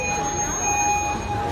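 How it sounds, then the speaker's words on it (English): A fire alarm sounds inside a movie theater in Eastvale, California, a loud steady electronic tone with sharp high pitches that holds without a break across the moment. "fire alarm"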